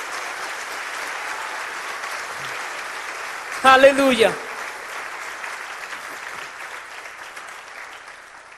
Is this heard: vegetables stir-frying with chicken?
no